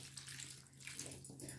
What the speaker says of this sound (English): Now we'll be adding the water